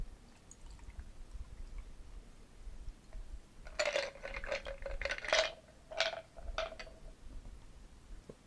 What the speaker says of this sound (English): strain that into your glass